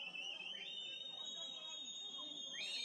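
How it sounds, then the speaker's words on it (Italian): A referee's whistle at an amateur Sicilian Promozione football match sounds as shrill, sustained tones through most of the moment. A faint commentator's voice runs underneath. "Fischia l'arbitro"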